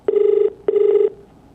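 A telephone rings on an outgoing call: two loud, clear ringback tones, each lasting about 0.4 seconds, separated by a short silent gap.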